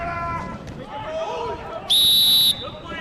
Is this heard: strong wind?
no